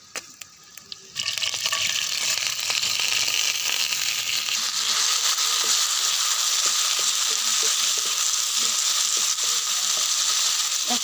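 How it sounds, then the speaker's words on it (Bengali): Aatap rice dropped into hot oil in a wok bursts into a loud, steady sizzle after a quieter first second, with faint scraping of stirring running through the frying. "এই যে আতপ চাল এখন ছেড়ে দেব তেলের মধ্যে।"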